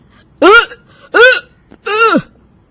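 A loud, sour belch bursting out three times in a row, each a resonant voiced burp with falling pitch, the last one longer and drawn out, with short silent gaps in between.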